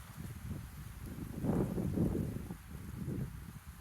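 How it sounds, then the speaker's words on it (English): A gust of wind buffets the microphone outdoors as a low, rumbling roar that swells to its strongest midway, then eases and flutters without fully dying away. "here comes a gust of wind"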